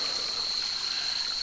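Creek water runs steadily beside a bridge near a road, a soft, continuous trickling wash with a faint high whine behind it and no voices.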